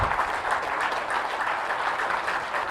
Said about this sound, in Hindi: तो मेरे एक बार जोरदार तालियां खड़े होकर बजा दीजिए विजय भाई के लिए